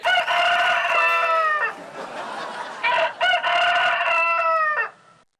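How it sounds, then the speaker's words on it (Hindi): A rooster crows repeatedly, loud and close, in long drawn-out cock-a-doodle-doo calls with a brief pause between bursts. "मेरा मुर्गा जाग गया है"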